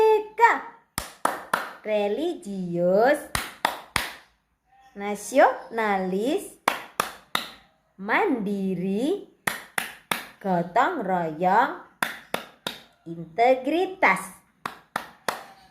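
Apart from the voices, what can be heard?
children clapping a rhythmic clap chant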